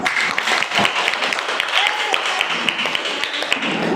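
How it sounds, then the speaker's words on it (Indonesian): Applause from an audience at a university teacher-training session in Bandung, a steady patter of clapping across the whole stretch with some background voices. "beri tepuk tangan untuk"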